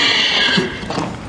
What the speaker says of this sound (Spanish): Y está fuerte el caballo, está ancho, Javier.